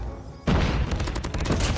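Rapid bursts of HG-40 submachine gun fire in the mobile shooter Call of Duty Mobile, loud and close, starting abruptly after a brief quiet and continuing as a fast rattling stream of shots.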